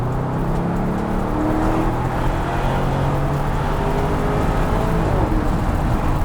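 Lamborghini Urus Performante engine pulling through the revs on a drive, a steady loud interior drone with rising and falling tones, no speech over it.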